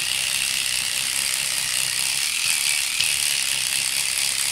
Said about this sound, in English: Oh, electric toothbrush.